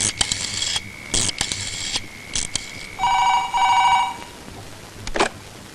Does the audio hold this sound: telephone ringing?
yes